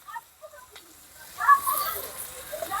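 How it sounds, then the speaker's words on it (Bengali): Chopped onion, garlic and green chilli fry in a pan with turmeric and cumin powder added, a soft sizzle swelling up after a quiet opening with brief faint talk, then crackling steadily at moderate loudness. "পেঁয়াজ, রসুন, কাঁচা লঙ্কা একটু ভাজা ভাজা হয়ে গেছে"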